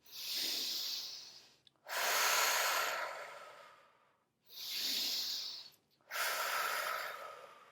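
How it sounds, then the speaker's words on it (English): A person breathes out forcefully through the nose or mouth during a guided rest exercise, giving four long, rushing, airy exhales in a steady rhythm with short pauses between them, close and fairly quiet. "pushing out all breath, either through nose or through mouth"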